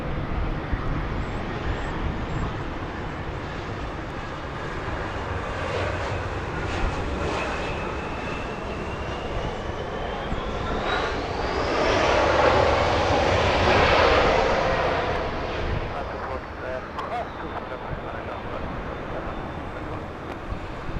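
Air Tahiti Nui Boeing 787 jet airliner at Los Angeles International, a loud sustained engine roar with a rising whine that swells to a peak midway and then eases as it passes.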